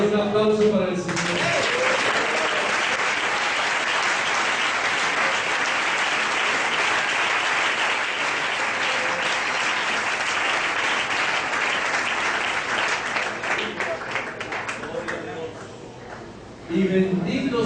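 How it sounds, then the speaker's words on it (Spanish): A church congregation at a ministerial training gathering bursts into sustained applause for the Lord, loud dense clapping from many hands that holds steady for over fifteen seconds, with a voice briefly audible at the start and end. "Hay un aplauso para el Señor."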